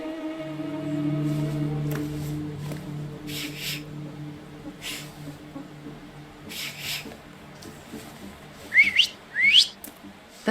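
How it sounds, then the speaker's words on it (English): Whistling from the PC video game The Thaumaturge: after a low tonal game ambience, two quick rising whistles ring out near the end, fairly clear and brief. "So, have you mastered whistling?"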